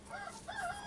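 A farmyard rooster, one of several kept with big hens and silkies, lets out a single faint, short crow at a distance.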